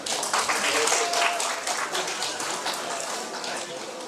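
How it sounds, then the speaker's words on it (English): Audience applause at a student induction program, a dense crackle of many hands clapping that starts strong and slowly thins over four seconds. "Give a round of applause."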